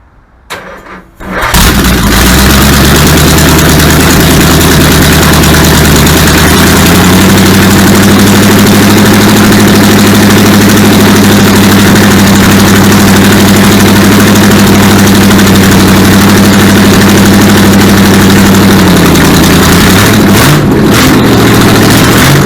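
A 1959 Vespa engine cranks and catches after a brief quiet moment, then runs loud and close with a steady droning idle, rising slightly mid-way before dropping back, with a few sputters near the end.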